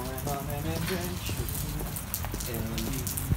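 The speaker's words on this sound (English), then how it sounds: "back out into the rain, my favorite" Rain falls outdoors as a constant patter of drops with some hard taps, while people talk over it and footsteps or hoof-like clopping sound nearby.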